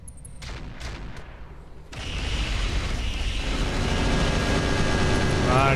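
An anti-missile system fires in the Roguetech mech video game: a few sharp cracks give way to a loud, continuous roar of rapid fire that keeps building to the end.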